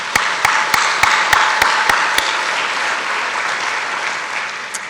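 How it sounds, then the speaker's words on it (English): An audience applauds at a 2023 countywide 9/11 remembrance ceremony. A few distinct sharp claps open a steady wash of clapping that keeps an even level to the end. "Yes, we can clap,"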